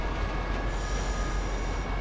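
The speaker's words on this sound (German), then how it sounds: "So, jetzt bitte vorsichtig wieder der Zug." Train passing in Grand Theft Auto V, a loud continuous rumble of rolling wagons with a high wheel squeal running over it, close by and with no talk.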